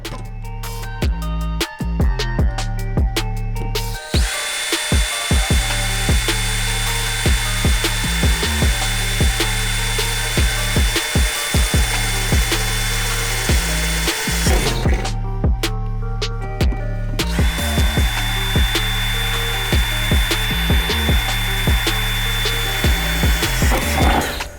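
A power drill fitted with a 5mm bit bores a series of pilot holes through the floor of an MX-5 Miata for M8 frame-rail bolts, giving a loud, close, sustained whine in two long runs separated by a short pause.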